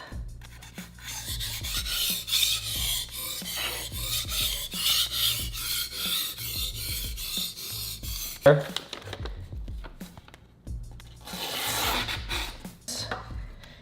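An edge is sanded with abrasive grit in steady back-and-forth rasping strokes, close and fairly loud, with a short pause midway before the scraping resumes.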